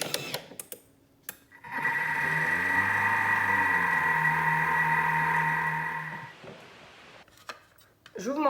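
A Thermomix whirs steadily at speed 2 for about twenty seconds, mixing steamed chocolate cake batter with the measuring cup in the lid, a loud even mechanical hum with a few clicks before and after.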